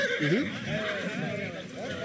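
An Arabian thoroughbred horse neighs before a race over 2000 metres, a short rising-and-falling whinny at the start, followed by a race commentator talking over a steady crowd murmur.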